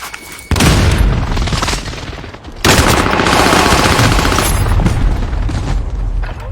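Airstrike blasts and heavy gunfire in a team-based shooter game, a dense, loud barrage of booms and rapid automatic fire that drops briefly and then resumes, continuous and close.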